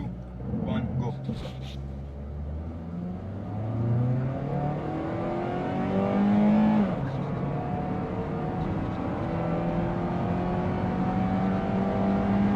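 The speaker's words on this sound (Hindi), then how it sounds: "तो ये है जी गाड़ी का 0 to 100 हाँ जी। बूस्ट।" A 2000cc Honda Civic Reborn accelerates hard from 0 to 100, its engine note rising through the gears in long climbing sweeps, loud and close, with someone talking over it.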